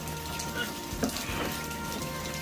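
Steady rain falls outside with a soft, even hiss, broken by a few light taps and brief thuds nearby.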